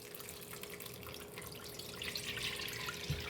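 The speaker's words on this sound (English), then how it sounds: "We're gonna let that strain through." Buttermilk from homemade butter straining through a mesh strainer, a soft steady trickle and patter of liquid with faint drips, fairly quiet and continuous throughout.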